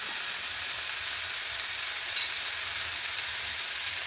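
Pumpkin and Malabar spinach pieces frying lightly in a pan give a steady, close crackling sizzle that holds evenly throughout with no talk.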